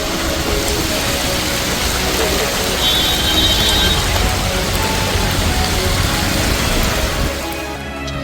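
Heavy, continuous rain pours down in Mumbai, a dense steady hiss that fills the whole clip at close range and stays loud until it thins slightly near the end.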